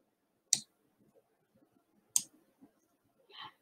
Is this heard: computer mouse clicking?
yes